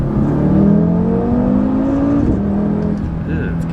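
Audi RS3 pulling hard in second gear, a loud close engine drone rising steadily in pitch with a brief dip partway through, briefly on the edge of detonation near the top of the revs.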